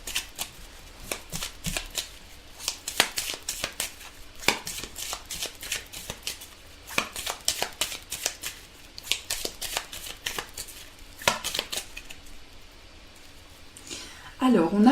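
Tarot cards are shuffled by hand in a steady run of crisp, close riffling and slapping bursts, repeating throughout with brief pauses and a voice heard at times.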